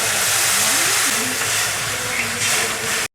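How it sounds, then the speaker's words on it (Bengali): A small amount of water hits a hot pan of cooking Maggi masala with tomato and spices, producing a loud, steady close hiss and sizzle that runs throughout and then cuts off abruptly. "কম পরিমাণ জল দিয়ে দেবো"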